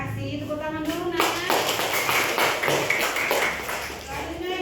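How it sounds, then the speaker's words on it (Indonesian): Children in a classroom clap their hands together in a burst of sharp, rapid, scattered claps that starts after a brief spoken prompt and carries on for several seconds, with voices mixed in. "Tepuk tangan dulu"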